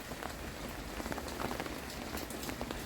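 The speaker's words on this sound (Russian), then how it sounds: "Дождь идет весь день." Steady rain falls over Busan in mild, warm weather, a dense, even patter of drops hitting surfaces close by, continuous and unbroken throughout with no voices.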